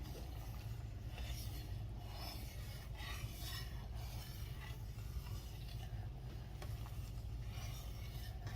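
A spoon stirs raspberry lemonade jelly made from concentrate in a pot, giving a continuous scraping, rasping sound with a loose rhythmic drag, fairly close and with no talking.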